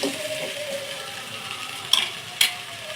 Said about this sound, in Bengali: এলাচ দারচিনি দিয়ে আলাগুলো একটু ভেজে নিচ্ছে